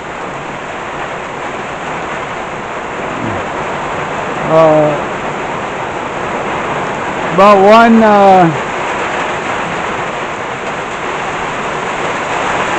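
Heavy midday rain pours steadily and loudly in a dense, unbroken roar, with a voice briefly talking over it.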